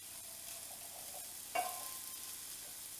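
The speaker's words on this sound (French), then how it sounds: "Donc maintenant ce qu'on va faire c'est qu'on va déglacer au vin blanc" Bacon sizzles steadily in a hot pan, with a brief sharp hiss about midway as white wine hits the pan to deglaze it, then the frying continues evenly.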